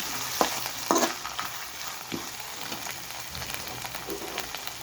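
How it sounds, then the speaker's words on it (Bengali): Ginger garlic paste frying with onions in fish oil, a continuous close sizzle and crackle with scattered stirring scrapes and a couple of louder spatula knocks early on. "এখানে আমি একটু আদা রসুন বাটা দিয়ে"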